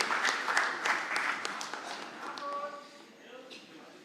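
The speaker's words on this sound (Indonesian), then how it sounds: "Kita berikan tepuk tangan yang meriah buat Pak Ganjar Pranowo dan Prof. Mahfud MD" Audience applause at a political party event announcing a vice-presidential running mate, a dense burst of clapping that thins and fades over a few seconds, with a faint tone and murmur underneath.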